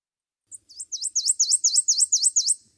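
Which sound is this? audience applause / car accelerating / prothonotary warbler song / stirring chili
prothonotary warbler song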